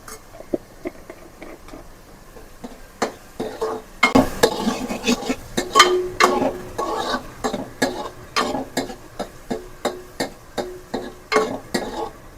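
Onions with a little salt being cooked and stirred in a pan for pav bhaji, a soft sizzle under repeated scraping and clinking strokes of a utensil, close and moderately quiet, with no talking.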